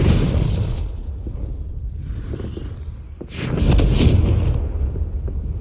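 A Confringo blast spell from Hogwarts Legacy erupts in a deep, rumbling explosion, with a second loud burst following after a brief dip, heard alone without talk.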